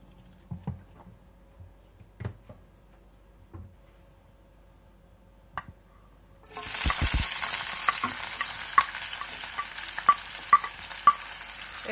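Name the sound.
onion and garlic frying in oil in frying pan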